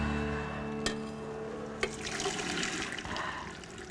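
Water from briefly boiled lentils is poured off, a steady rushing splash with a couple of sharp clinks from the pot, moderately close and with no voices.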